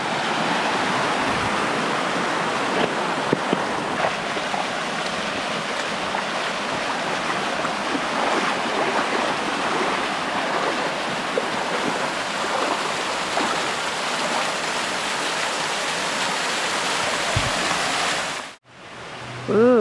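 Bobo Creek, a small seasonal wet-weather creek at Short Springs State Natural Area in Tennessee, flowing in a steady broadband rush of water heard close, with no voices, cutting off abruptly near the end.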